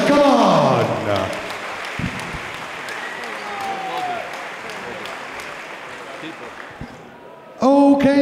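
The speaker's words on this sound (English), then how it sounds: "Let's have a round of applause for both warriors." A crowd at a UK MMA event applauds two featherweight fighters after a three-round bout while awaiting the judges' decision. The clapping and cheering are steady and sustained, with an announcer's voice over the start and again at the end.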